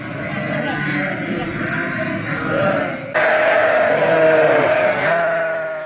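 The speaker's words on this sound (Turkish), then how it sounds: "Koyunların kuzulama döneminin başlamasıyla birlikte" Sheep and newborn lambs bleating during lambing season in a village in Elazığ, Turkey, a dense chorus of overlapping, loud, near calls that continue without a pause.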